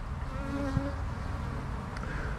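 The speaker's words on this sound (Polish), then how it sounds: "te pszczoły po prostu mają za gorąco i tak i tak wychodzą z tych uli" Many honeybees hum in a dense, steady drone outside their hives in 36°C heat, with individual insects buzzing past nearby.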